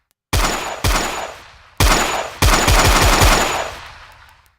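Gunfire in a VR target practice game rings out as loud, sharp reports: two single shots, then a short rapid burst of several rounds, each with a decaying tail and no voices.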